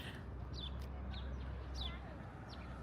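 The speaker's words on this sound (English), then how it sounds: "There's a really loud bird right here." A loud bird near a hotel parking lot outside Disneyland gives several sharp, repeated calls at intervals over a steady background of traffic noise.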